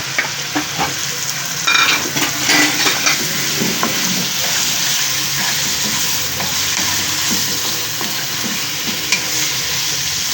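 Chicken frying in a pan with garlic and ginger, giving a steady loud sizzle with scraping stirring strokes and occasional clinks throughout, close up and with no talk.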